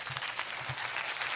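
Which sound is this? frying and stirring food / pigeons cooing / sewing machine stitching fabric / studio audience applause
studio audience applause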